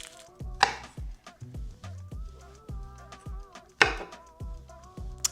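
A knife chops garlic cloves on a cutting board in steady, close, thudding strokes, with two sharper clacks standing out, over faint background music.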